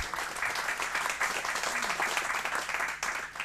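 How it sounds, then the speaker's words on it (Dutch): Studio audience applauding Dutch women's road cycling champion Iris Slappendel, a steady wash of many hands clapping throughout. "Iris, applaus voor jou."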